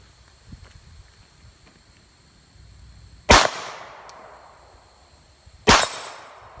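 A Glock 23 Gen 4 pistol fitted with a .40-9mm conversion barrel fires two loud, sharp shots about two seconds apart at an outdoor range, each with a short echoing tail.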